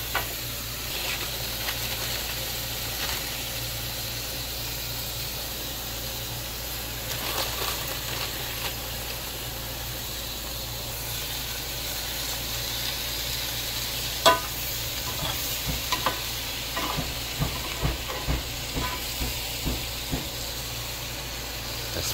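Snow peas stir-frying in a hot pan give a soft continuous sizzle, joined by scattered clicks and scrapes of stirring that turn more frequent in the second half.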